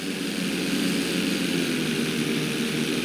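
Propeller plane engine during flight school in the video game GTA V, a loud, steady droning hum held evenly at close range with no voices.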